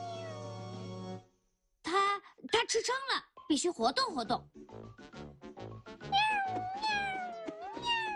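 Cartoon kitten meowing in a children's animated show, several short high-pitched cries mixed with lively character dialogue, close and clear.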